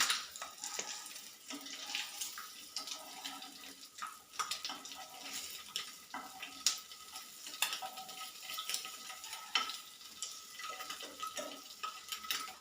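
A Kerala tea-time snack fries in a pan right after being turned over, giving a steady crackling sizzle with scattered stirring and scraping sounds close by, no talking.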